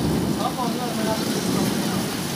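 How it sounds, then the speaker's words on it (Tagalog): Heavy rain pours down steadily and loudly on a street-food vending stall, with a brief voice speaking over the constant downpour. "Ang lakas ng ulan."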